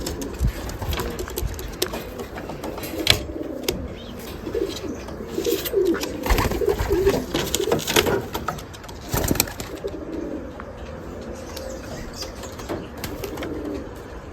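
Racing pigeons coo softly outside the loft, low repeated calls mixed with occasional wing flaps and rustling, with faint outdoor background noise.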